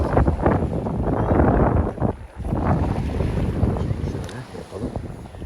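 Strong, gusty wind at sea roars and buffets the microphone continuously, with broad rushing noise that swells and briefly drops midway.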